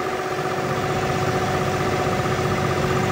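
The engine of a John Deere 5405 tractor idles steadily right after starting, a continuous close, even diesel rumble with a faint whine and no talking.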